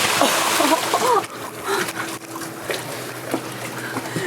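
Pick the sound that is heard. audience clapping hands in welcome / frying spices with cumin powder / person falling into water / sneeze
person falling into water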